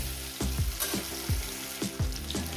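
Spices with turmeric frying in hot oil, a steady close sizzle broken by repeated clanks and scrapes of a spoon stirring in the pan, no one talking.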